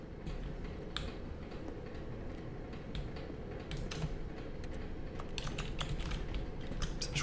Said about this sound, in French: ça fasse un bruit de clavier, je me souviens pas que ça faisait ça quand tu fais clic pour interagir